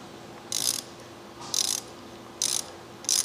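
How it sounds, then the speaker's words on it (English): A socket wrench ratchets four times, each a short, loud, close burst of clicking while retention bolts are tightened during an EDM burn setup, separated by pauses over a steady background hum. "I'll just keep walking around and tightening down our retention bolts"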